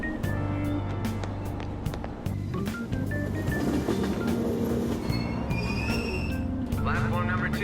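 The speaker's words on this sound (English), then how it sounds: "Train doors are now closing. Please stand back." A commuter train departing in the Persona 5 Royal video game, steady rolling rumble with clicking rail sounds and occasional squeals, with a voice speaking over the train throughout.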